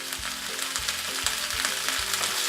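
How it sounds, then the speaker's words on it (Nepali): Garlic, ginger and green peas fry in a pan for a tomato and green pea pickle, a loud close sizzle broken by rhythmic scraping and knocks of stirring. "1 मिनेट जति यसलाई हामी चलाउँदै फ्राई गर्नेछौँ।"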